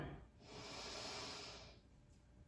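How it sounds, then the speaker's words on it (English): Slow, deep breathing during a beginner yoga session, one long airy exhale swelling and fading over about two seconds, close and soft, with no talking. "2, deep breathing."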